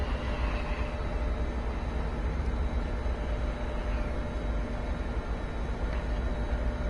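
Simulated bullet train pulling away and gaining speed in Train Sim World 2020, a steady loud low rumble with constant broadband noise throughout, no talking.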